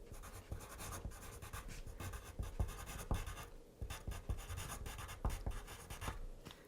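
A highlighter pen scratches across paper, close, steady strokes with frequent short taps and scrapes in an uneven rhythm.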